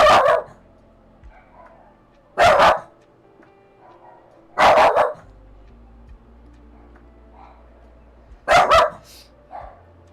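Dogs bark at someone at the front door in several short, loud bursts spaced a couple of seconds apart, with quiet gaps and faint softer yips between them.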